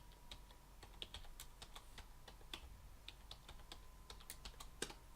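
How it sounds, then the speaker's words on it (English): A password is typed on a computer keyboard in a steady run of light, close key clicks that keeps going without a break over a low background hum. "Going to type my password."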